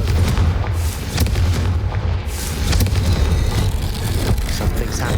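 Confringo fire spell explosions in the video game Hogwarts Legacy, a dense, loud run of booming blasts and crackling bursts over a rumbling low drone, with repeated sharp impacts throughout.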